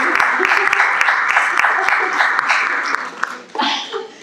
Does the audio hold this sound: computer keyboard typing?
no